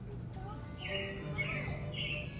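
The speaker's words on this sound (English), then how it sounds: "it looks like the Robins are getting ready to celebrate Valentine's Day today" Robins on the Carousel of Progress attraction give a few short, bright chirps at intervals, quiet but clear over a low background hum and faint murmuring.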